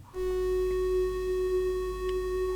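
Lyra-8 synthesizer drone with reverb added, a steady sustained tone with stacked harmonics ringing evenly and loud throughout, a soft wash of reverberant tail around it and no voices.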